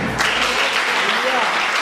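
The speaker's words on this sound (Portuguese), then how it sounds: "Então, aplauda o Senhor." A church congregation claps loudly during a Christian worship service, dense continuous applause filling the short moment, with voices mixed into the sound.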